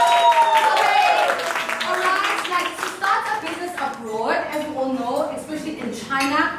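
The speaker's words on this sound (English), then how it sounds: "Can we have a round of applause for them?" A round of applause at a women's business luncheon in China: a room of guests clapping steadily and close, with children's voices and chatter mixed through the claps.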